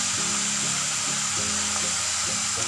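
Tomatoes hit hot oil in a pan for potato and spinach sabzi and set off a loud, continuous hissing sizzle close by. Faint clatter runs under it, with no speech.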